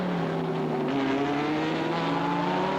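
Jack Brabham's race car passes along the start-finish straight at Mosport during the 1967 Canadian Grand Prix. The engine holds a loud, sustained high-revving note that shifts in pitch as it goes by, with no talk.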